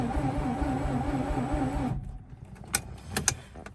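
A Mazda RX-8 rotary engine with a new eccentric shaft sensor is cranked by the starter, giving a steady whirring drone for about two seconds that then cuts off, followed by a few sharp clicks and knocks.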